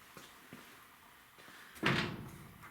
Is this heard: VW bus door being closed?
yes